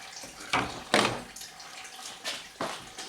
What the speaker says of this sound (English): There's the rest of the coolant coming out.